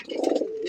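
A male native Bangladeshi pigeon, one of a pair of black Golla birds, gives a single close, throaty coo that swells and then holds steady, with no other sounds around it.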